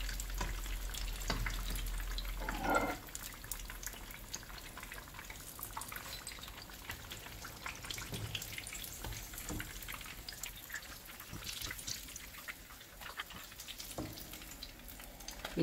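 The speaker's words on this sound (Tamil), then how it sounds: "நல்லா எல்லா பக்கத்துலேயும் திருப்பி விட்டு பொரிங்க" Fish bajji sizzles and bubbles steadily in hot oil, with a continuous close crackle and occasional louder spits and pops as the pieces are turned.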